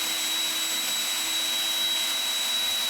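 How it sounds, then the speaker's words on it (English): A larger AOETREE cordless electric leaf blower rated at 500 CFM runs continuously, a steady, close, high-pitched airy whoosh with a faint electric whine. "At 500 CFM, this larger blower can move a lot more leaves quickly."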